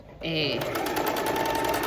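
A domestic sewing machine stitches knit fabric. After a brief quiet moment its motor starts and runs as a loud, steady, close-up whirring hum with a fast rhythmic needle chatter.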